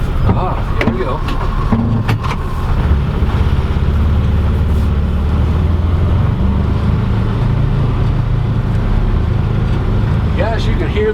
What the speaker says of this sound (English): We're recording the noise at this point. Compared to traditional side-by-side, it's pretty quiet